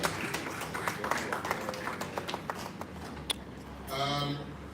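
A round of applause from an audience at a university electoral commission event, scattered claps rising and thinning over a few seconds before a voice briefly cuts in near the end.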